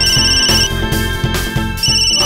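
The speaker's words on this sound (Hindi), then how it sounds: "ये बिल्लू जी क्यों फोन कर रहे हैं, वो भी गलत टाइम पे।" A mobile phone rings loudly and close with a bright, repeating electronic ringtone melody over a thumping beat, heard alone with no voices.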